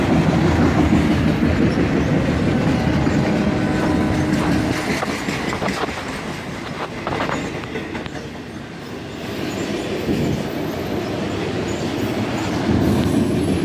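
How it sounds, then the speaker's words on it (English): CSX freight train led by an SD42 with an SD43 square cab rebuild trailing, passing close by with loud steady rumble, clattering wheels and intermittent wheel squeal over the whole stretch. "an SD42 leading and an SD43 square cab rebuild trailing"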